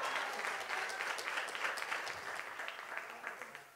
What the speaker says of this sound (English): Y'all clap for him.